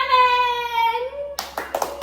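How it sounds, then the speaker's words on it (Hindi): Children clapping at home after a cooking challenge between siblings, a burst of several uneven hand claps following a sustained sung or hummed tone, close and fairly loud. "ताली बजाओ अच्छे से।"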